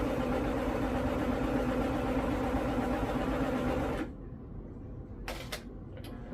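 A sewing machine stitches a DIY dress, its loud, steady, close whirring motor running continuously, then stopping partway through, leaving quiet room sound and a few brief clicks.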